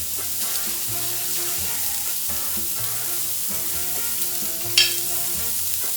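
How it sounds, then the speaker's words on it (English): Beef sizzles steadily in a hot skillet on a high stovetop burner, with intermittent stirring scrapes and a brief sharper clatter near the end, close and fairly loud throughout. "Beef goes into a hot skillet."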